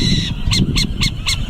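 After a brief murmur, an owl gives four short, harsh, rasping screeches at a steady pace, loud and near, with no speech over them.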